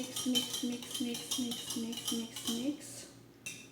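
A single egg is beaten in a bowl for soft Spanish bread dough. A utensil clinks against the bowl in a quick, even rhythm of about eight close, bright taps before slowing.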